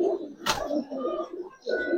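Giribaz pigeons coo up close in a low, soft, rounded murmur, in two phrases split by a brief sharp noise.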